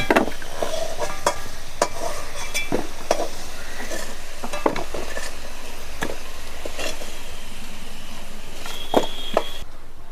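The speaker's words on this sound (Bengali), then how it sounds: "আলুগুলো ভাজা হয়ে গেছে লাল লাল হয়ে গেছে" Potatoes fry in hot oil while a spatula stirs and scrapes the pan, cooking for a jackfruit curry; a steady sizzle runs underneath sharp, irregular metallic clicks and knocks from the stirring, close and fairly loud.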